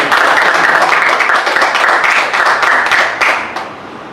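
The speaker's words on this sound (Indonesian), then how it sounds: "Kasih tepuk tangan dong buat SMPK." Students and congregation at a school Easter service clap together in a loud, close burst of applause that runs steadily for about three seconds, then thins and fades out.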